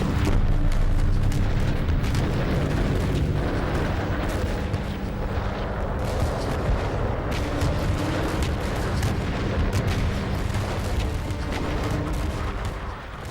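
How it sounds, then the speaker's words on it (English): A World War 1 artillery bombardment of the German line at the Somme in 1916 rolls on as a dense, unbroken roar of overlapping booms and blasts, loud and sustained throughout. "Sergeant Tawney witnesses the final frenzied bombardment of the German line"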